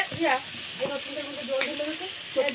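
Vegetables such as pointed gourd, bitter gourd and okra fry in a pan in a village home kitchen, giving a steady close sizzle with occasional stirring while voices talk over it.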